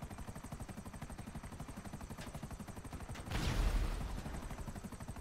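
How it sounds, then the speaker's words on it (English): Rapid mechanical chatter of a helicopter and gunfire in GTA V Online runs steadily throughout, with a heavier, louder blast of the rail gun swelling past the middle and fading back into the constant din. "shoot my rail gun"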